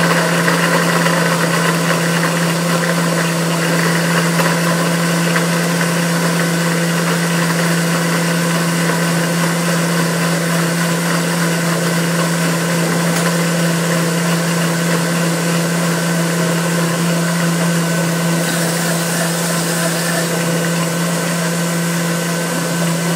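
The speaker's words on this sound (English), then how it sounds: "then we just get that blending on a nice high speed" Blender running on high speed through homemade vegan mayonnaise for potato salad: a loud, steady motor whine with a strong constant hum, unbroken for over twenty seconds with no voices.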